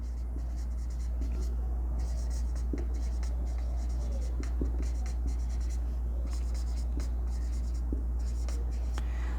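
Pen scratches out chemistry notes on paper in short strokes and taps, close and fairly quiet, over a constant low electrical hum.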